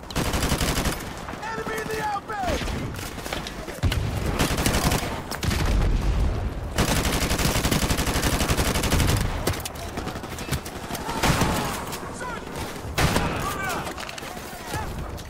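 Modern Warfare Remastered AK assault rifle fire comes in loud, rapid automatic bursts with short pauses between them, sharp cracks and booming echoes layered with other battle noise, and a voice speaks at times.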